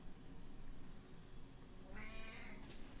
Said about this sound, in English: See if he goes meow.